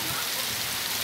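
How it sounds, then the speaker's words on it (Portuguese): Rain falling steadily, a dense even hiss of drops striking surfaces nearby, with no voices heard over it. "Curtindo essa chuva, esse frio."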